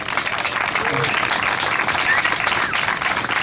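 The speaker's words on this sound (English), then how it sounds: "Please give them a round of applause." Audience applause for first responders at a bridge dedication ceremony, a steady, dense round of clapping from a gathered crowd, moderately loud and sustained throughout, with faint murmuring beneath.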